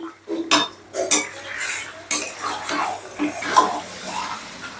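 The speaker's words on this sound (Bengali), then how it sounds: "এবার চিকেনটাও মশলার সাথে বেশ ভালো করে কষে নেব।" Chicken pieces being stirred and sautéed with spices in a pan, irregular metallic scrapes and clinks of a spatula against cookware with a soft sizzle underneath, close and uneven in rhythm.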